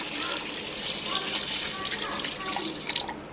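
Water poured from a tap or jug into a pot of meat stock (yakhni) for Afghan Qabili pulao, a steady close splashing gush that runs unbroken for a few seconds.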